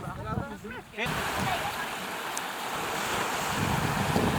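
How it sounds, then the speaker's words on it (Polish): Ocean surf and currents along the western Salalah coast of Oman roll in as a steady, loud wash of breaking waves mixed with wind noise on the microphone, starting after a second of talking and continuing unbroken. "Takie są prądy, takie fale"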